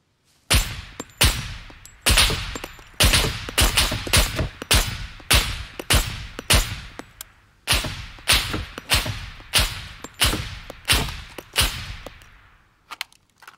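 An M82 rifle fires in the SCUM video game, about eighteen loud, evenly spaced heavy shots, each with a booming tail, continuing steadily for over twelve seconds with no talk.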